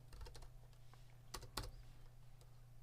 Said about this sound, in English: If I can type on this keyboard.